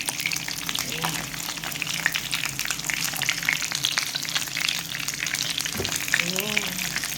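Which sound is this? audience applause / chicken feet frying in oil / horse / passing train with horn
chicken feet frying in oil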